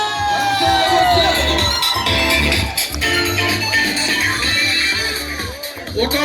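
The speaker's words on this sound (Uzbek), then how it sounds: "Qarsakinglar bo'lsin!" A crowd cheers and claps loudly at the opening ceremony of Bellissimo Pizza, a family restaurant in Namangan, with shouts and whoops layered over a continuous roar and background music.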